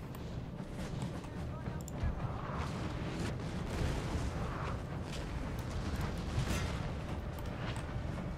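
Cannon and artillery fire in the Napoleon: Total War video game rumbles as a continuous, heavy low roar with repeated booms blending together, with a voice talking over it.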